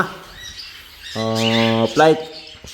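Caged birds, silver and lime colour mutations, chirp in a second flight cage with scattered high tweets, while a steady low tonal, voice-like sound rises in the middle.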